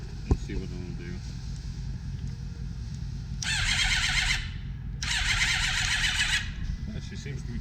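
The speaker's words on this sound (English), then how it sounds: "She will not start with the tank off because of the fuel pump, but we can just crank it and see what it'll do" Suzuki GSXR1000 with a freshly replaced starter and the fuel tank removed, cranking in two whirring bursts of a second or so each without catching, close up over a background hum.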